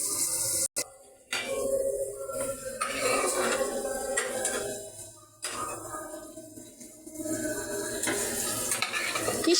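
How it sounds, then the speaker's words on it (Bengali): Egg bhuna fries and sizzles in a pan while a spoon scrapes and stirs it steadily, with a metallic clatter of utensil against pan and brief pauses between strokes. "এই দেখো ডিম ভুনা হচ্ছে।"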